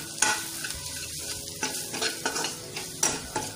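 Onion-garlic masala is stirred and sautéed in a pan for Maharashtrian stuffed brinjal. A soft sizzle runs throughout, broken by sharp clinks and scrapes of the spatula against the metal, with no talking.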